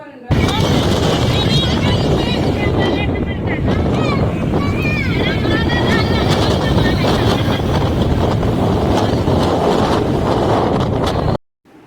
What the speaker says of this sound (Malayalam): ഇന്ന് ഭയങ്കര കാറ്റ് ഭയങ്കര മണൽക്കാറ്റ് ആണ്